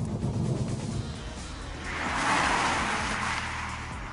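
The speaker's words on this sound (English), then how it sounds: "the car I'm sitting in, the Volkswagen Scirocco R," Volkswagen Scirocco R hot hatch driving, a steady engine and road hum from inside the cabin that swells slightly in the middle, with no talking.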